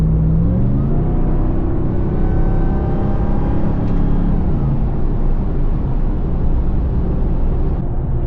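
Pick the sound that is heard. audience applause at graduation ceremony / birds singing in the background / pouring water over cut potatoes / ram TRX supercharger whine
ram TRX supercharger whine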